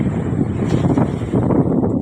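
Heavy wind buffeting the microphone, a continuous low roaring rumble with gusty surges and no clear voices.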